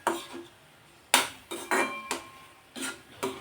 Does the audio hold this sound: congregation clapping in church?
no